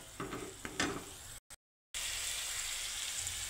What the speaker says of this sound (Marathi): मसाला आपला छान असा परतून झाला